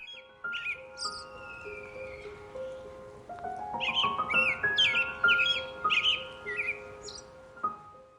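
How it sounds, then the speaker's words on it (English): Small birds chirping and whistling cheerfully among the foliage of a cottage garden, several overlapping calls in quick bright bursts, with a crow-like caw mixed in, fairly close and steady throughout. "they run around together, chirping cheerfully through the foliage"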